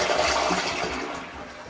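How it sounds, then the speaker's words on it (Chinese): A repaired toilet with its seal ring removed flushes, sending a loud, close rush of draining water that eases slightly toward the end. "再冲一下水呢，"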